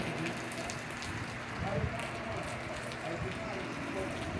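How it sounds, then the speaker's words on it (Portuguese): Heavy rain falls steadily in cold, windy weather, with water pouring from a roof spout, a constant dense hiss throughout. "Muita chuva mesmo."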